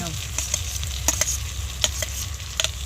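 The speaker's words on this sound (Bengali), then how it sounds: "এবার ভেজে রাখা ঢ্যাঁড়সটা দিয়ে দেবো" Fried okra being stirred into a sizzling spice masala with potatoes in a pan, a steady frying crackle broken by several sharp scraping stirs of the spoon, close and clear with no talk.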